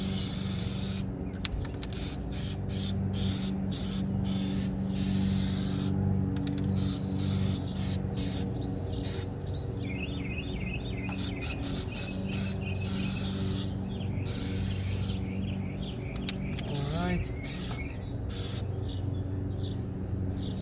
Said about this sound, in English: it's okay to spray on the tire, it doesn't matter, but it's not okay to spray on the brake